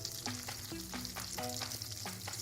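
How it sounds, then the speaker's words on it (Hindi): Pieces of beef steak sizzle steadily as they brown in a hot pan, with a few utensil scrapes and knocks cutting through the constant close frying hiss; no voices. "पहले हम अपने पीसेस को थोड़ा सा ब्राउन करेंगे"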